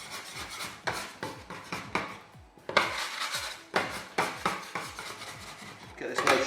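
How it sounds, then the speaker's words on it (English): Bench scraper rubbing and scraping across a kitchen counter while shaping a homemade bread loaf, a run of short, close strokes with scuffing taps and a few pauses between them. "Then just take your bench scraper,"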